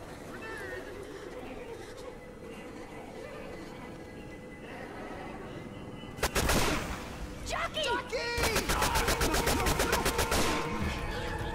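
Gunfire and a pipe bomb in Left 4 Dead 2: a sudden loud blast breaks a low rumble, then rapid automatic fire rattles on steadily to the end, with voices talking underneath.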